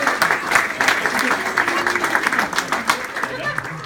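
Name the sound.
clapping applause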